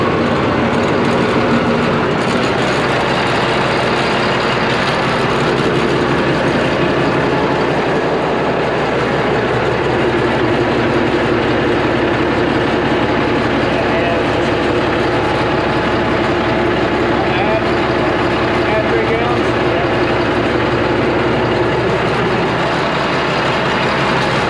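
Ex-military Cat D7F bulldozer with its diesel engine running, a loud, dense, continuous rumble and clatter that stays steady and close throughout, with no voices.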